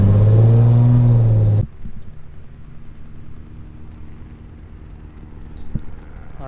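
Nissan 350Z with an automatic transmission idling and rolling at low speed after a driveshaft install, a steady low engine hum throughout, preceded by a loud, brief burst of close rumble at the start.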